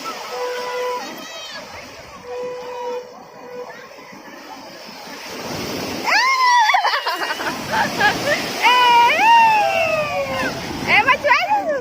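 Sea waves wash continuously onto the shore at Puri beach, a broad steady surf under a crowd's chatter, with whistling and shrill calls rising over it in the second half.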